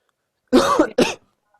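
Two quick, harsh coughs close up, a longer rasping one then a short second, in otherwise silent surroundings.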